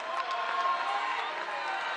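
Crowd in basketball arena stands gives a standing ovation after a FIBA 3x3 game, a broad roar of cheering and clapping held at a steady, fairly loud level throughout.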